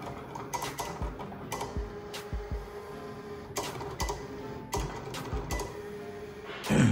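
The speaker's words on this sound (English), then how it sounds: "the Cricut button, to start cutting." A Cricut Explore Air 2 cutting machine cuts vinyl, giving quiet, intermittent mechanical clicks and short motor whirs in an uneven rhythm, with no talking.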